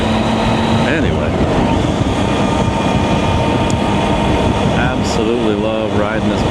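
A Triumph Tiger 800 motorcycle rumbles along the road with steady engine drone and heavy wind roar, loud and continuous, while a rider talks over it.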